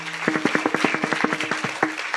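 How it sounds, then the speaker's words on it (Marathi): An audience at a kirtan clapping loudly in unison for the gurus, a fast even rhythm of close, sharp claps keeping time throughout. "एकदा सर्व गुरुजन मंडळीसाठी जोरात टाळी वाजवायची"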